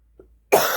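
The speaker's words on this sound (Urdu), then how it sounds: "کھانسی بہت ہو رہی ہے" A single sharp cough bursts out close by after a brief quiet moment, loud and raspy with a trailing breathy tail.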